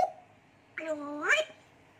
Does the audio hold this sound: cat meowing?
yes